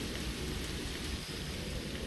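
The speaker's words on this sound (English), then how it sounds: "well, it's raining" Steady, dense rain hisses across the whole clip in the TerraFirmaCraft video game, with a low rumble of thunder rolling underneath throughout.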